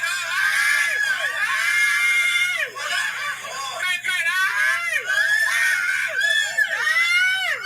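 A voice screams over and over in loud, rising and falling bursts that fill the whole stretch with hardly a pause.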